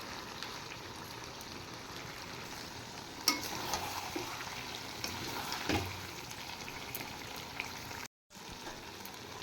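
Sesame chicken with raw peanuts and raisin paste is sautéed in a pan, giving a soft, steady sizzle with occasional stirring clinks and a brief dropout near the end.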